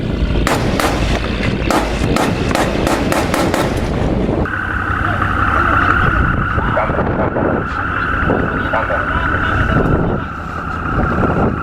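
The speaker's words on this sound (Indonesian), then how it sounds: "Tembakan peringatan ke air haluan kapal." Several sharp, loud warning gunshot cracks fire into the water at a ship's bow in quick succession at sea in the North Natuna Sea, then give way to a steady boat engine roar with a high whine over rushing wind.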